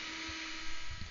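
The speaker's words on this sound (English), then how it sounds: "we're going to pre-drill a hole, 3 inches back from the edge of this valance" A power drill pre-drilling a hole into the wooden valance of a GeoPro JackKnife sofa gives a steady, close, high-pitched whirring drone that holds constant for about a second.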